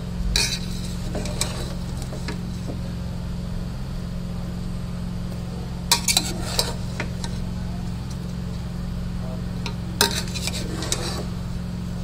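Chicken biryani rice is stirred and mixed in a pot, with scattered scraping and clinking strokes of a utensil against the metal, a few sharper knocks, and a steady low hum underneath.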